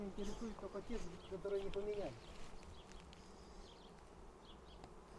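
Bees buzz steadily throughout an inspection of Tatarian Central Russian bee colonies, a dense close hum with a person speaking over it for the first two seconds.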